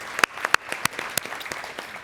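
Summit audience giving a round of applause, heard as scattered individual claps, a handful of sharp separate hits spread out rather than a full ovation, fairly quiet in a large room.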